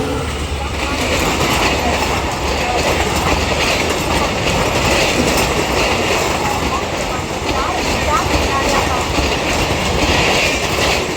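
WDP4D diesel and WAP-7 electric locomotives haul trains through a Mumbai suburban station, making a loud, continuous rumble with rhythmic clickety-clack of wheels over rail joints that lasts throughout, with faint wheel squeal.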